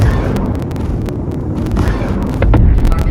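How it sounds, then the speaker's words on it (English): A loud, sustained rumbling explosion from the space game Star Citizen fills the whole moment with dense low roar and crackling debris, swelling slightly toward the end. "The explosion in this game amazing, isn't it?"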